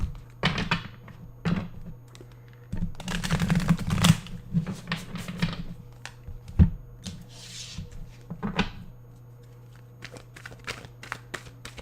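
Tarot card deck being cut and shuffled by hand, a burst of riffling flutter in the middle between sharper single slaps and taps, close and fairly clear over a steady low hum.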